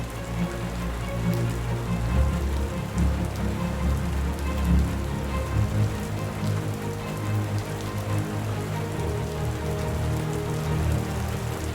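Steady rain falling and pattering on surfaces in the Colombian Andes, a continuous even hiss with no voices.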